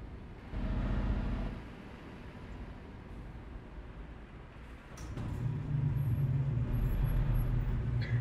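A truck engine rumbles steadily up close, the low drone swelling and easing as it idles and revs.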